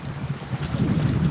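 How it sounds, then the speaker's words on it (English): Strong outdoor wind buffets the microphone at a gold-panning spot, a loud continuous low rumble and roar throughout with no talking. "it's so windy, my pan almost blew away"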